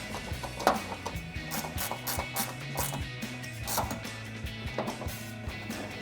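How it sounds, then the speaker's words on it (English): An angled ratcheting wrench tightening a headlight bolt on a 2019-2023 RAM 1500, with rapid repeated ratchet clicks in short bursts, close and moderately loud. "now I'm gonna be taking this angled ratcheting wrench to tighten that the rest of the way down"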